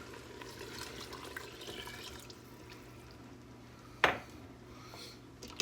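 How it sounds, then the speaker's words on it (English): Two cups of water poured into an Instant Pot while making beef bolognese from a jarred sauce, a steady close trickle and splash that runs for several seconds and ends in a sharp knock. "Now I'm going to add my water."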